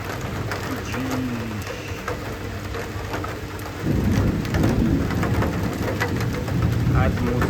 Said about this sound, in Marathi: फुल झणझणीत पाऊस चालू आहे, एक नंबर